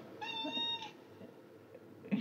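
A cat meows in a few clear, drawn-out calls indoors near an open window, fairly close and moderately loud, followed by quieter room noise and a brief knock near the end.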